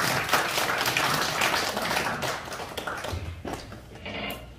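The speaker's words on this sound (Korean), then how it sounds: "큰 박수로 환영해 주시기 바랍니다" Dense, steady applause from a lecture audience fills the clip, many hands clapping together without a break, fairly loud and close.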